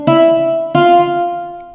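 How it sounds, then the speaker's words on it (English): Two plucked notes of a cittern sample in the ThumbJam app on an iPad, bright and guitar-like, each ringing briefly before fading, heard alone and close. "the sittern, sort of a guitar type sound"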